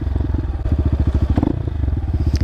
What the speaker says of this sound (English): oh, those crackles and pops, my boy.